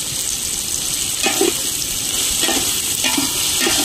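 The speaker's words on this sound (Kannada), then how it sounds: "ಫ್ರೈ ಮಾಡ್ಬಿಡು" Food fries in a little oil in a pan during a friends' trip, a dense steady sizzle close by with occasional stirring scrapes layered over it.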